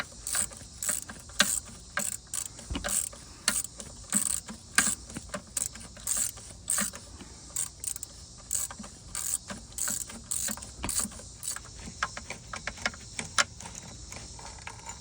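A ratchet works loose the starter bolts on a 2005 Chevy Malibu Maxx, giving rapid, uneven clicking strokes that carry on steadily and close up throughout, with no talk over them.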